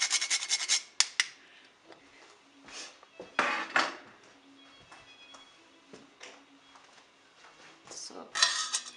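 A spoon scrapes and clinks against a pan while pasta sauce is stirred, coming as intermittent close taps and rubs against a quiet background.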